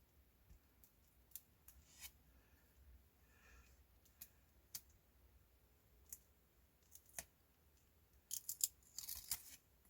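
Scissors snip small trims of paper in a quiet room, with sparse single clicks and cuts spread out, then a short busier cluster of snipping and rustling near the end.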